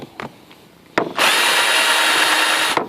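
A power drill runs a countersink bit into a hole in a thin wooden shelf piece, giving a loud, steady grinding whir of about two seconds after a few brief taps and bumps, with no talking.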